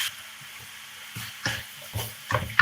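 Food being stir-fried in a pan while breakfast is cooked, a low background sizzle broken by several short bursts of scraping and tossing that grow louder toward the end.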